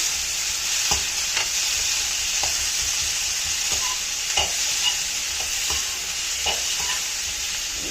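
Vegetables fry in a pan with slightly burnt cumin under a constant close sizzle, while a spoon scrapes and knocks against the pan in irregular strokes every second or so.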